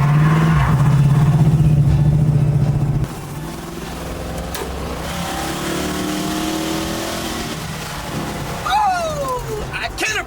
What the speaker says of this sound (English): Appreciate that Speedy 10 muffler on there.